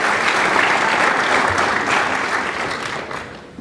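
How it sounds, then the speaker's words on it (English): Applause from a school graduation audience for the netball girls, a dense, steady wash of many hands clapping close by. It runs loud throughout and eases slightly toward the end. "So give them a round of applause again."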